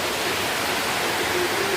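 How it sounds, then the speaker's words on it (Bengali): Heavy rain falls in a dense, continuous hiss of water, loud and close, steady throughout with no breaks and no one speaking. "যে কোথাতে জল পড়ছে দেখো"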